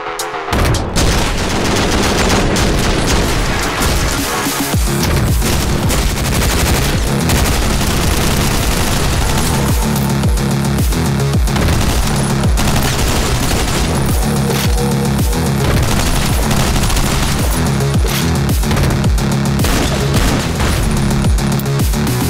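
AKM assault rifle fired in the top-down shooter OTXO: dense, loud rapid bursts of gunfire that run almost nonstop across the clip, mixed with a driving soundtrack and impacts, with no speech.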